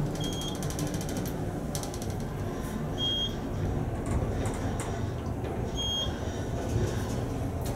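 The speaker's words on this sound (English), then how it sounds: "But this is a really narrow elevator." A narrow elevator in a parking garage hums and rattles steadily as it moves, with mechanical ticking and clicking and a few brief high beeps, moderately quiet throughout.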